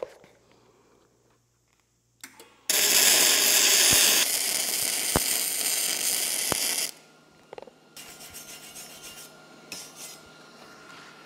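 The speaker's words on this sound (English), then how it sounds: "So I'm gonna go ahead and just weld this out the rest of the way" Arc welding on the steel frame of a shop-built welding table: a loud, steady crackling hiss runs for about four seconds, then gives way to quieter workshop noise.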